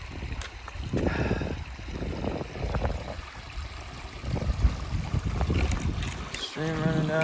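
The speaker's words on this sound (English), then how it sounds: "Stream running down here." A stream running beside a hiking trail on the La Cloche Silhouette Trail in October gives a continuous, fairly soft rush of flowing water, with some nearby rustling and gusts over it.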